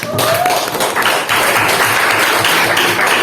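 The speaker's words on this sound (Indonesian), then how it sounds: "Ya, tepuk tangan dulu." A classroom of students claps together in steady, dense applause, loud and close throughout the few seconds without a break.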